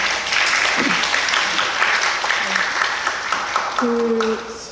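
An audience at a book talk claps steadily and warmly throughout, fairly loud, with a few faint voices and a short tone near the end.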